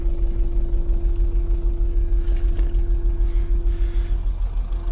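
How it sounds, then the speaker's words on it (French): A 1997 Opel Tigra engine idling up close with a steady low rumble and a constant droning hum, running evenly throughout with no voices. "Et le moteur tourne."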